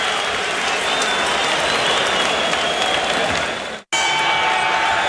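A boxing crowd in Reno cheers and applauds for their favorite fighter in a loud, dense roar. It cuts off abruptly near the end, then picks up again.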